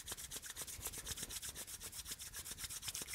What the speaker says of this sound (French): Et on frotte une troisième fois nos mains.